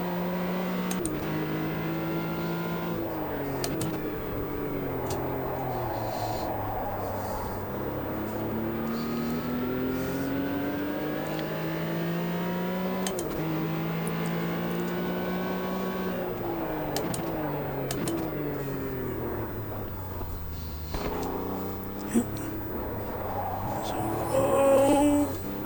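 A race car lapping a circuit in the Automobilista 2 sim racing game, its engine droning continuously as the pitch rises through gears, drops on upshifts and braking, and climbs again, steady and close throughout.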